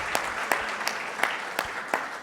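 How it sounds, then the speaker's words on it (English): Audience applause at a fireside chat event, a short burst of steady clapping from a crowd with a few sharper claps standing out. "I think that deserves a round of applause."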